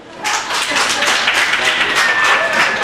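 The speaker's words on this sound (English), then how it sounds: "Clap it up." A comedy club audience breaks into dense applause and clapping, loud and near, building quickly and sustained for a few seconds with some voices mixed in.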